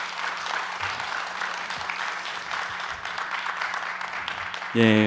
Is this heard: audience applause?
yes